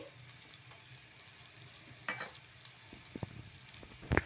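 A cluster bean dosa cooking on a hot pan with oil drizzled on top, a quiet steady sizzle with a few louder crackles and spatters near the end, no voices present.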